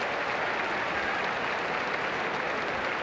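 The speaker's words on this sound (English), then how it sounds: "Good round of applause." Crowd at a 1987 rugby league preliminary final between Canberra Raiders and Eastern Suburbs Roosters applauding steadily as an injured player is wheeled off the field, a continuous distant wash of clapping.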